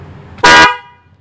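A single loud blast of a waterproof snail car horn on a Toyota Agya 1.2, sounding for about a quarter second and ringing briefly afterward, close and piercing over faint background noise.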